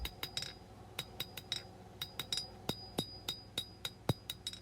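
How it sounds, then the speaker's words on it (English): Blacksmith hammering a steel knife blade, a quick series of sharp ringing metallic strikes, about twenty in irregular rhythm with short ringing tails, fairly close but quiet overall. "And then we'll hammer in a little more"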